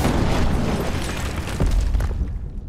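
Dynamite explosion in a war film, a loud close boom with a rumbling, crackling burst that gradually decays.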